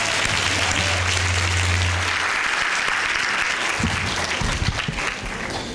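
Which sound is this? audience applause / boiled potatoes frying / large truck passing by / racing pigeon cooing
audience applause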